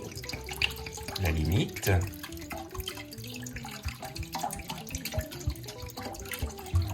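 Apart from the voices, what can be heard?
water being poured into a pot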